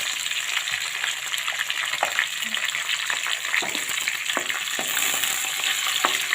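Green chillies and onions fry in a pan with a steady, close hiss and crackle, broken by occasional small pops and faint utensil knocks, with no talking.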